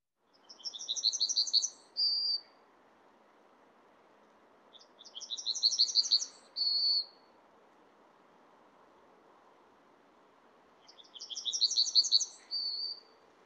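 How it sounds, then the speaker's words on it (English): Yellowhammer song recorded outdoors at dawn: three separate phrases, each a rapid high trill of repeated notes ending in a short drawn-out final note, spaced several seconds apart over faint steady background noise. "This is the yellowhammer song."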